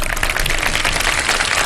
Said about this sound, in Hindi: तालियां तो बजा दें यार एक दफा।